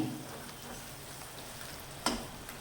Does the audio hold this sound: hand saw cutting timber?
no